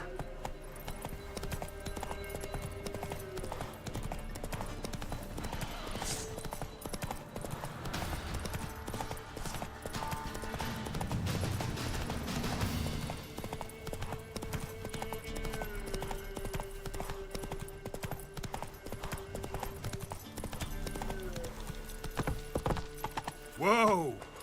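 Roach, the horse in The Witcher 3, clip-clops continuously at a steady trot with a brief whinny near the end, while voices talk over the hooves.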